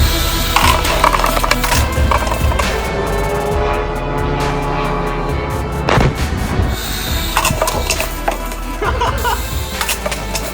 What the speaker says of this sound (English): I wanted to test how a single drone can handle my fireworks rockets